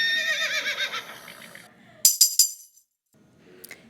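Sound-effect horse neighing in a children's story reading about a horse and wagon on Mulberry Street: a loud whinny opens and tapers off, then a few sharp snorting bursts follow, ending in a faint trailing snort.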